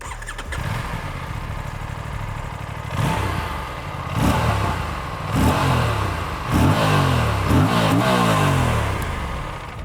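A parallel-twin motorcycle engine starts and is revved several times, deep throbbing blips rising and falling close by, each rev swelling then dropping back to a lumpy idle, with no talking.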